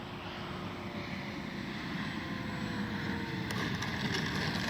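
A Dynam F6F Hellcat RC model plane comes in to land, its electric motor a steady distant whir with wind noise that swells slightly toward the end.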